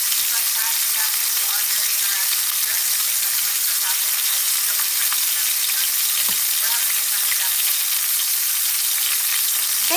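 Food fries in olive oil in a pan, giving a steady, loud, dense sizzle that runs unbroken throughout, with faint background voices underneath.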